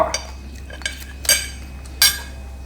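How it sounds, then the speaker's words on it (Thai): Fresh crab stir-fried in oil with garlic, black pepper and coriander root, the spatula scraping and clinking against the pan in four separate strokes over a faint steady background. "เอาลงผัดกับน้ำมัน ปูสดมันละเนื้อ อืมปูสด ลงผัดกับน้ำมันแล้วทีนี้ก็"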